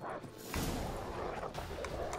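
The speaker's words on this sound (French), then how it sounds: "Ah, c'est des chiens enragés en plus." Rabid dogs in The Witcher 3 bark and yip in several quick, fairly quiet bursts over game ambience, closing on a louder final hit.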